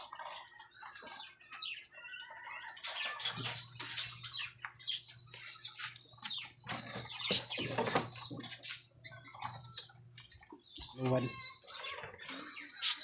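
Male pigeons coo in repeated throaty calls with occasional wing flaps, close by, under a person talking throughout.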